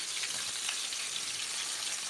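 Chicken wings fry in a hot skillet, a steady, soft crackling sizzle with fine popping that continues evenly throughout without talk.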